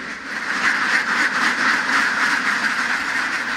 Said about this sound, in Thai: เก็บเป็ดก็ร้องระงมเลยนะ